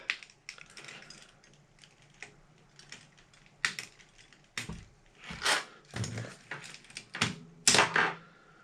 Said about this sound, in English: Let's take out another key.